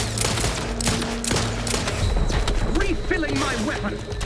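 Dense gunfire fills a combat scene in The Outer Worlds 2, with loud, continuous bursts of shots and impacts layered over game effects and voices.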